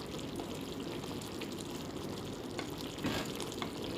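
Okra cooking in a pan with a steady frying sizzle and occasional stirring scrapes, close and continuous, with no talking.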